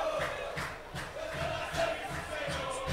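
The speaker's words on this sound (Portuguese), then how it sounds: "A torcida do Inter vai cantando," Inter football supporters chant and celebrate in the stands at a 2019 Campeonato Paulista match, a dense, steady crowd roar with rhythmic sung pulses and shouts rising and falling throughout.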